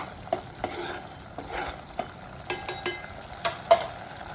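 Sliced onions fry in a pan for Kashmiri dum aloo, a soft continuous sizzle punctuated by regular scraping stirs of a spoon, close and fairly quiet.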